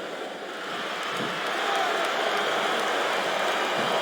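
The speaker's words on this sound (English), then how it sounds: "Wow, listen to that chant, Taz." A large video-game wrestling arena crowd from WWE SmackDown vs. Raw 2007 roars as a continuous dense wash that swells louder and holds steady, with no clear words audible.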